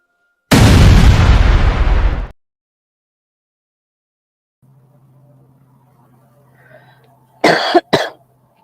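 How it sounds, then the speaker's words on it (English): A loud, close cough blasts straight into a microphone and lasts about two seconds. Silence follows, then a faint hum and a couple of short vocal bursts. "I didn't mean to cough in your ear."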